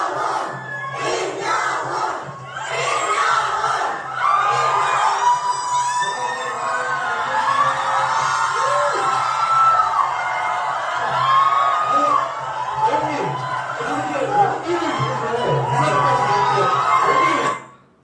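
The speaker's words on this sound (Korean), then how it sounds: "지금 이 서면에 임영웅 님이 등장을 하니까 많은 분들의 그냥 환호가 막 쏟아집니다" Fans crowd outside Seomyeon CGV in Busan as Lim Young-woong appears at a fan screening event, a dense, continuous roar of cheering and shouting voices that stays loud for the whole stretch before cutting off at the end.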